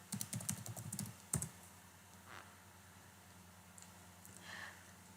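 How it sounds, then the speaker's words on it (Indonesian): Quick bursts of typing on a computer keyboard as sudo and a password are entered in a terminal, a rapid cluster of close key clicks followed by a few isolated taps and quiet pauses. "ketikkan sudo kemudian enter, masukkan password."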